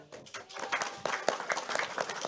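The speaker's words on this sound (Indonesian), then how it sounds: "Tepuk tangan dulu" Audience at an Islamic religious sermon breaks into applause, a dense patter of clapping that swells briefly and carries on steadily with some voices mixed in.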